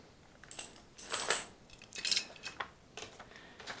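Plastic parts of an outdoor HD TV antenna are handled close up, with several sharp clicks and light rattles coming in uneven bursts and no talking.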